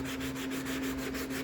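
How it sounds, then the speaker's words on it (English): Steady abrasive rubbing of wet sandpaper over primer on a Mandalorian helmet, a continuous close scratchy swish with faint back-and-forth pulses and a constant low hum beneath. "I've been doing wet sanding on it, and I don't honestly know the efficacy of wet sanding primer,"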